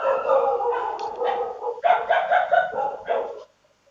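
Dogs bark outside in a rapid series of yips and barks, moderately loud and continuous for about three seconds before stopping.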